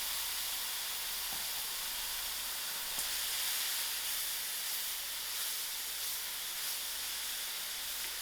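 Grated tomatoes hitting a hot pan of cooked-out masalas, producing a loud, continuous broad hiss and sizzle that holds steady throughout, with no voices over it.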